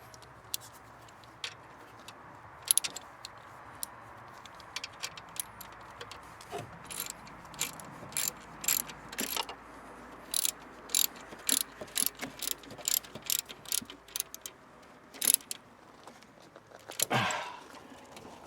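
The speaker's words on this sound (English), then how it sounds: "And now we tighten this mounting bolt right here." A ratchet tightens the alternator mounting bolt on a 2000 Toyota Avalon in a garage. Short clicking bursts repeat irregularly at close range over a quiet background, ending with a longer rasping stroke.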